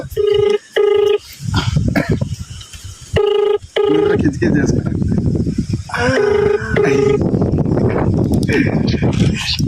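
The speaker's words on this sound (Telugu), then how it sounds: "ఇక ఫోన్ అయితే వేస్తున్నా." A telephone ringback tone repeats in regular bursts over steady background noise and some talking, each ring a short steady buzz followed by a pause.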